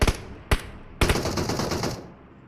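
Gunfire in PUBG Mobile comes as two sharp single shots followed by a short automatic burst, loud and close, then fading out.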